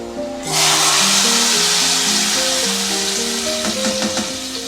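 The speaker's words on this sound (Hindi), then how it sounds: "अब हम इसको तड़का लगाएंगे।" Tadka for chana dal hits hot oil with an abrupt loud sizzle that stays as a steady, dense crackling hiss over background music.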